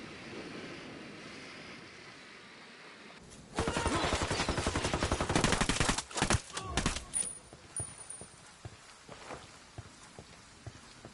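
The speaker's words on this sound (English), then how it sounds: "Opening fire on these fuckers." Automatic gunfire in the tactical shooter Ghost Recon Wildlands erupts after a windy outdoor lull, a loud rapid burst followed by scattered shorter volleys that fade out over the remaining seconds.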